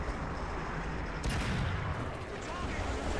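Tank cannon fire in War Thunder ground-forces realistic battle, with a distant shot from a tank destroyer out front landing as a single muffled boom amid steady rumbling battle noise, no talk.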